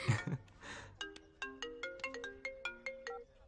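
A phone ringtone plays a quick melodic pattern of bright, evenly spaced tones that repeats steadily for a few seconds after a short burst of speech, fairly quiet in the mix.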